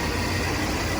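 A 1967 Chevy C10 pickup's engine runs steadily at idle, a dense, continuous low rumble close by with no talk over it.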